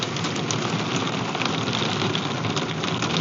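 Heavy rain pours onto a campervan parked on a large muddy lot, a dense, steady drumming patter that stays close and constant without a break.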